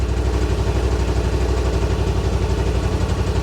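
A Yamaha Rmax side-by-side engine idles close up, a steady low rhythmic throb with even pulses and no talking.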